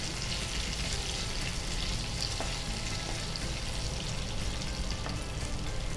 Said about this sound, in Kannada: ಉದ್ದಿನಬೇಳೆ, ಕಡಲೆಬೇಳೆ, ಸ್ವಲ್ಪ ಸಾಸಿವೆ, ಮತ್ತೆ ಸ್ವಲ್ಪ ಜೀರಿಗೆ ಎಲ್ಲ ಒಟ್ಟಿಗೆ ಹಾಕಿ ಒಗ್ಗರಣೆ ಹಾಕಿ